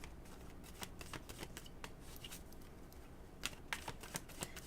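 A deck of cards is shuffled in quick, quiet riffling bursts, faint crisp flutters and taps repeating for several seconds with no talking.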